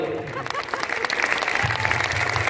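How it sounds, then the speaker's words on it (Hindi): A crowd at an RCM gathering in Bhilwara claps for themselves in a loud, continuous round of applause, with voices audible in the later part. "अपने लिए ताली बजा लो"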